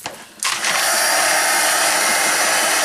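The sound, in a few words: hair dryer drying a craft tag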